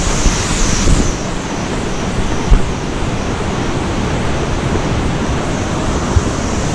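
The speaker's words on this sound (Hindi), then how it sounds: "वाटरफॉल अच्छा है बट ज़्यादा बड़ा नहीं है" Devi's Fall waterfall in Pokhara pours with a constant, loud, broad roar of rushing water, steady from start to finish with no talk over it.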